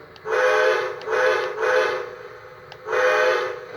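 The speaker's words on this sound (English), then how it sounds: "And then the horn. Whistle." A model train's steam whistle, on a Lionel Dreyfuss Hudson locomotive, sounds in three separate blasts, the middle one a quick double toot, loud and near with short gaps between.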